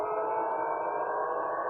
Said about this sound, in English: there is a total blackout and just air sirens are working